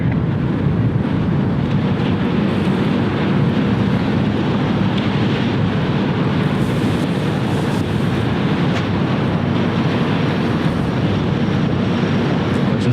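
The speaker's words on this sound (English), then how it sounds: "But your patience has been rewarded with the 757 rocket ship heading over to the runway." Boeing 757 jet taxiing toward the runway at Cleveland Hopkins airport, a steady broad engine roar with wind buffeting the microphone, sustained and even throughout without speech.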